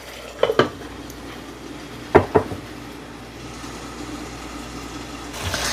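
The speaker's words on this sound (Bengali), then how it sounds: "আর একটু ভালো করে জিনিসটা কুকড হোক, আমি একটু ঢাকা দিই।" A lid set down on a pan of spiced curry simmering on the stove, a few sharp metallic clanks in two quick pairs over a steady low sizzle.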